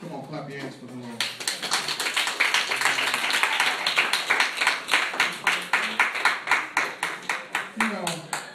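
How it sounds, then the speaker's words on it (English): A church congregation claps hands in a steady rhythmic beat that builds after about a second and keeps pulsing evenly, with voices singing or calling out beneath the claps. "Come on, clap your hands for the Lord."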